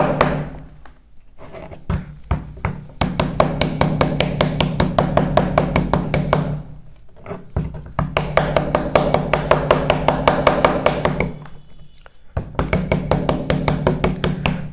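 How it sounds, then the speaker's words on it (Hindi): A hammer levels the stacked E-I steel laminations of a 220 V to 24 V step-down transformer core. Close, loud, rapid metallic taps come in rhythmic bursts, separated by brief pauses. "अब बारी है हथौड़ा से थोड़ा लेवलिंग करना।"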